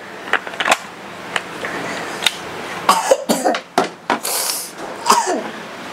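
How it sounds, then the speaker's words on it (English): A child coughs several times in short, sharp bursts, close by, with brief pauses between them. "I cough."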